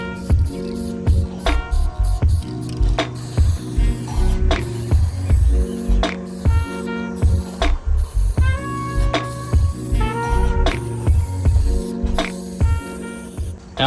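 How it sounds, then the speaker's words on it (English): Spray paint hisses from an aerosol can onto the hood of a third-generation Toyota 4Runner in a series of short, loud, rhythmic bursts with clicks between passes. "When I'm spraying, especially for this first coat, I'm staying probably maybe 8 to 10 inches away, and I'm doing pretty light coats."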